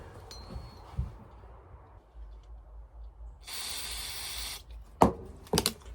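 Cleaner sprays in a steady hissing burst of about a second through the carburetor of a Poulan 3400 chainsaw, framed by quieter handling clicks and knocks from nearby tools and parts.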